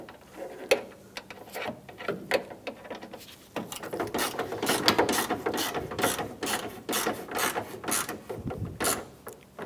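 Ratchet tightening grille bolts on a 1997-2001 Honda CR-V, quiet close-up clicking strokes coming in short irregular bursts, with no voices.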